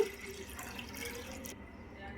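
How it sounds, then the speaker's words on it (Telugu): Water pours into a pan with a soft, steady splashing hiss, then stops partway through, leaving only quiet room noise. "సరిపడా వాటర్ పోసేసుకుందాము"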